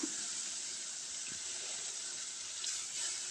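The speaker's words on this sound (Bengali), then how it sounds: "এই রুই মাছের পিসগুলো এখন হলুদ লবণ মাখিয়ে আমরা তেলে ভেজে নেব" Pieces of rohu fish rubbed with turmeric and salt frying in very hot oil: a continuous bright hiss and sizzle, close and steady, with no talking.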